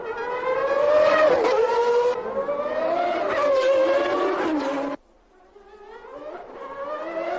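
A Ferrari Formula One race car driven by Nigel Mansell on a qualifying lap, its high-revving engine wailing loudly and climbing through the gears, then cutting abruptly before rising again more faintly.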